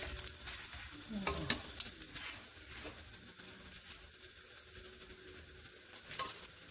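Msemen flatbread cooking in an oiled pan, a soft continuous sizzle with scattered light crackles and a few brief handling sounds as it is turned and moved, fairly close and moderately quiet.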